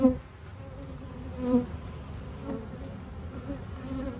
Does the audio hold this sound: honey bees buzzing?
yes